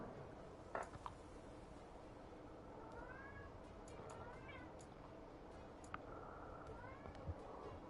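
Cat meowing indoors: several short rising and falling meows, moderately near, repeat over a steady background hiss, with a sharper click or two between them.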